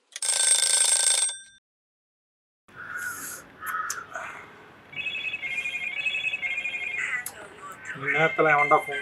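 A telephone rings in a loud, bright burst at the start, then gives way to a quieter room with someone talking and scattered household noises.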